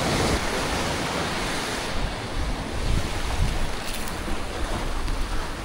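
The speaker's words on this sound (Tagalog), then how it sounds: "Oh, lakas ng alon." Strong ocean surf pounds continuously while fishing from the shore, a loud, broad wash of breaking waves mixed with heavy wind buffeting the action camera microphone, with no voices.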